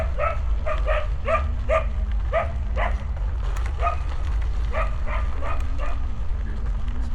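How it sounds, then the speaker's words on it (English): Several dogs bark in repeated bursts over a steady low rumble, the barks coming in quick clusters at moderate distance. "It's my life, dogs chasing me."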